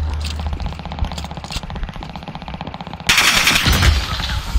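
Rapid automatic gunfire from a Cooper carbine in a shooter video game, a steady rattling burst that grows louder and denser partway through with heavier impacts and explosions mixed in.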